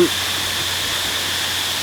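Sai Yok Noi Waterfall pours in a steady, broad rushing hiss, continuous and fairly loud with no breaks, heard alone without talk.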